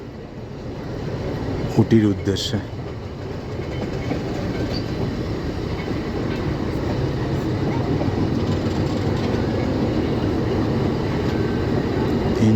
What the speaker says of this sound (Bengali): পাশের ট্রেনটি ছেড়ে চলে যাচ্ছে